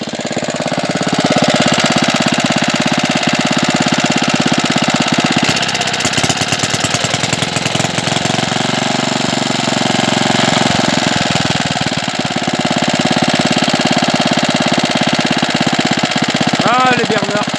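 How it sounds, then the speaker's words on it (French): A Bernard W19 stationary engine running as it warms up after being restarted on mixed fuel, a steady, loud, rapid chugging drone that persists throughout, with a brief voice near the end. "Ah les Bernard, j'adore ces moteurs franchement, c'est des super moteurs."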